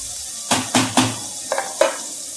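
Bitter gourd stir-fries on a medium flame, a low sizzle punctuated by five quick scrapes and taps of a spoon against the pan, close up and without speech.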